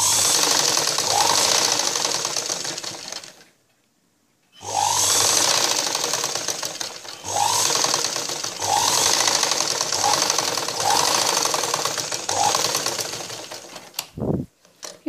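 A sewing machine stitching a blouse dart runs in long, loud, close bursts of rapid mechanical clatter, stopping briefly for about a second and again near the end.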